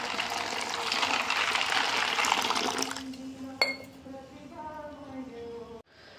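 Water poured into a bowl of peanuts set to soak, a steady gushing splash for about three seconds, then a faint clink and quieter trickles as the pour ends.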